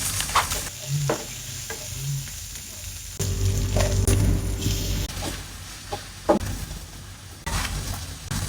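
Dosa batter cooks on a hot pan with a steady sizzle, louder in the middle, broken by scraping and clinks of a spatula.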